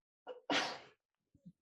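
One sharp human sneeze, close and fairly quiet, preceded by a quick intake of breath and followed by a soft sniff.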